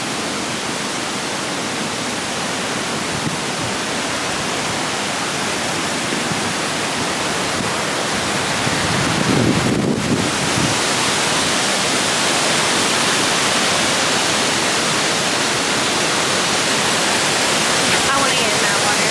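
Rushing water of a waterfall in Highlands, North Carolina pours as a loud, constant broadband roar throughout, with a brief nearby knock partway through.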